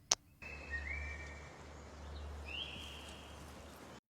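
Two quiet, drawn-out human whistles sound as signals in The Last of Us, each rising slightly at its end, faint against a low background hum.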